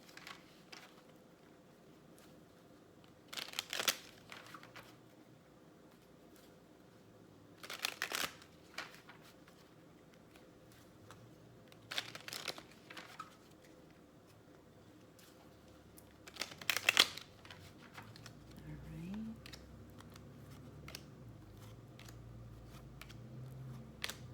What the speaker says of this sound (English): I think I'll lay out 3 tarot cards for each pile as well